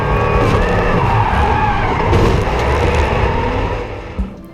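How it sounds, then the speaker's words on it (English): A GT3 race car, a Bentley Continental GT3 or McLaren 650S GT3, skids after being rammed from behind by a Mercedes, a loud sustained roar of engine and scrubbing tires that fades near the end. "Bashed from the rear by a Mercedes, which then whacked the front for good measure."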